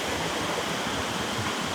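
Water rushing steadily at Thirumoorthy Hills dam, a dense continuous broadband roar with no pauses, close and fairly loud, with no voices over it.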